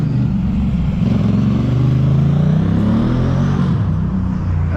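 Motorcycle engine on a Montreal street in the Plateau/Mile End area, a close, loud rumble that rises as it accelerates past, over steady street background, with no talking.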